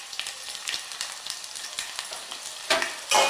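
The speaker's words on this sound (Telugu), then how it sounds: "అవి వేగనిద్దాం." Tempering spices for tomato rasam sizzle and crackle in hot oil, a steady close frying hiss with small pops and a louder spatter burst near the end.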